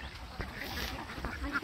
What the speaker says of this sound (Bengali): এই হাঁস খাচ্ছে